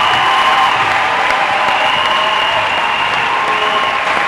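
A church congregation applauds and cheers for Jesus Christ, a loud, dense and continuous wash of clapping from a large crowd that holds steady throughout.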